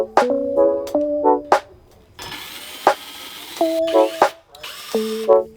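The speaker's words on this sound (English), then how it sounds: "I used some pocket screws to fasten each shelf" A power drill drives pocket screws to fasten wooden shelves, with loud, close whirring bursts that rise in pitch, stop, start again and mix with clattering in between.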